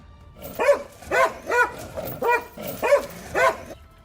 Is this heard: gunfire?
no